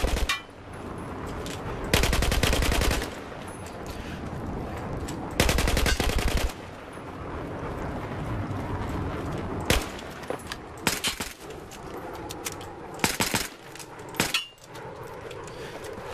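Scar H rifle gunfire in the video game Battlefield 4, loud sharp bursts of automatic fire in several separate volleys, with clanking handling noises between them.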